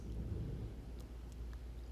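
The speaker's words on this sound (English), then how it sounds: "Good old Houston summer thunderstorms." Low rolling thunder from a summer thunderstorm in Houston, a steady deep rumble that swells and fades across the whole stretch, heard from indoors with no talking.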